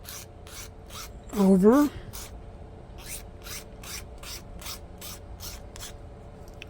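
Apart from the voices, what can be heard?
filing down grain on a 3D-printed propeller part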